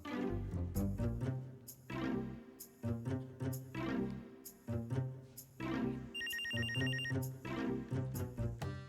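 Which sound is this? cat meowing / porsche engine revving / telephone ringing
telephone ringing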